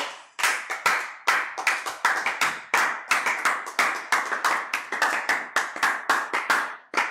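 A congregation claps to acclaim the Lord at a midday prayer service, sharp close hand claps in a quick irregular rhythm, many strokes following one after another with no voices.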